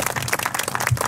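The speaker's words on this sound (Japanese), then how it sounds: "では皆様今一度大きな拍手をお送りください。" A crowd applauds at an All-Japan trial motorcycle championship awards ceremony in Kyushu, a short, close burst of scattered handclaps with no speech over it.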